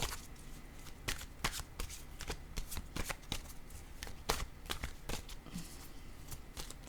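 Tarot cards are shuffled in a rapid, steady series of crisp riffling snaps close by, continuing for several seconds without talking.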